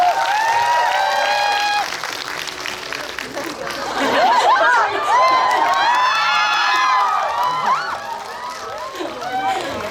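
An audience at a film talk event in a Megabox COEX cinema hall claps and cheers, with whoops and excited voices rising midway over steady applause and chatter.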